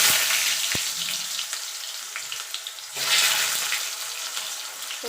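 Potato pieces fry in hot oil with black cumin, a steady close crackling sizzle that swells loudly near the middle and then settles back to an even hiss, with no talking.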